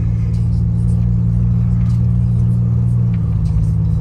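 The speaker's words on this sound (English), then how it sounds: "Car drives good." A car engine hums and rumbles steadily while driving on city streets, with a low drone that shifts slightly in pitch near the end as a gear changes, close and continuous with no talk.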